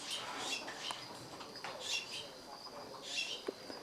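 A pet bird squawks and chirps in bursts amid a noisy room, with some faint background voices mixed in.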